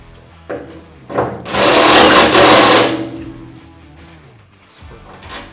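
A drill whirs up and grinds loudly through metal for about two seconds, then spins down to a quieter hum, while installing a Titan hose reel.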